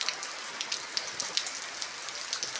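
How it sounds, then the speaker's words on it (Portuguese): Heavy rain at night in Chapada Diamantina, a dense steady hiss of water pouring down with scattered sharper drops striking a surface, close and continuous. "Olha, só tá apertando a chuva"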